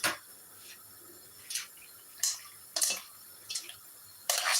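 Pasta water is added to a creamy tomato prawn pasta sauce in a home kitchen, heard as scattered splashy drips and short liquid bursts at close range, with no talking.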